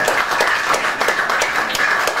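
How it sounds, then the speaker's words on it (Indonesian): Audience applause at a formal address by a police brigadier general, a dense, even patter of many hands clapping loudly for a couple of seconds. "Tepuk tangan."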